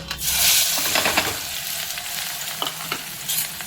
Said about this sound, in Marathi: आता आपला तेल गरम झालेलं आहे आता टाकते मी कांदा